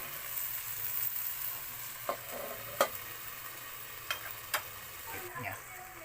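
Ingredients fry in a pan with a soft, constant sizzle, broken by a few sharp clicks and scrapes of stirring, quiet and close.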